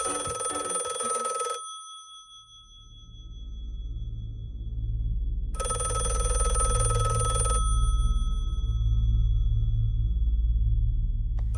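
An old-fashioned telephone bell rings in two bursts, separated by a pause, over a low, steady droning hum.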